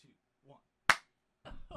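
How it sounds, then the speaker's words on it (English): A single sharp hand clap sounds close and loud in a quiet room, set between short bursts of speech before and after. "That's a new setup clap."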